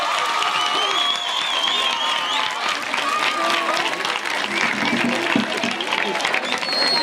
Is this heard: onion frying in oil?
no